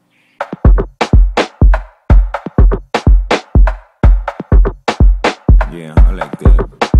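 Full Afro house drum pattern in a steady groove of deep kicks, layered percussion hits and crisp high accents, loud and busy with no talk over it.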